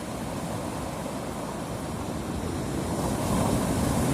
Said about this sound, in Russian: Как вот сейчас, как последняя волна была.